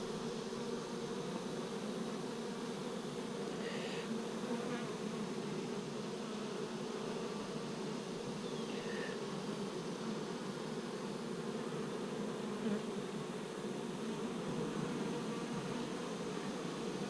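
A steady, dense hum of many honeybees buzzing together in an open hive, continuous and close, with no voices.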